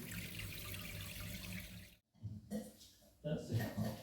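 Water pumped and moved through a home fish tank, a steady rushing, trickling flow that cuts out briefly and then returns in splashy bursts, with a person talking over it.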